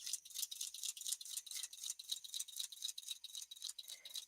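Sewing machine stitching lines across a quilt, a fast even mechanical patter of needle strokes, light and steady at close range with no voices.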